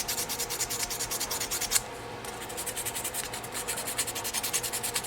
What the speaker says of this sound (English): this is 220 sandpaper here, and I'm just going to clean it up a little bit with that